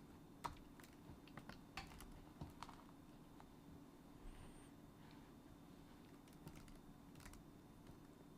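Someone types on a computer keyboard while writing C++ code to generate an HTML page: scattered soft keystroke clicks in irregular short bursts, faint and nearby over a quiet room hum.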